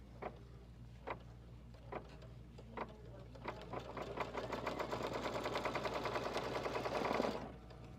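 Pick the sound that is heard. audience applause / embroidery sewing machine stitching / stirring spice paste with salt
embroidery sewing machine stitching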